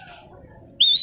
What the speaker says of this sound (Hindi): अब भाई की सीटी वही वाली बज रही है